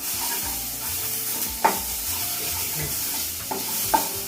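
Chopped onion pieces sizzle steadily in a shallow layer of oil with ginger-garlic paste in a kadai, a continuous close frying hiss broken by a few sharp stirring knocks, with no talking.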